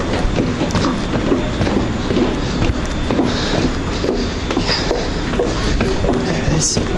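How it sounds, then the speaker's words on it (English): Steady rumble and clatter of a train pulling into a station on a line to London, with faint wheel clicks over a constant broadband roar and no clear talk. "Trains in now."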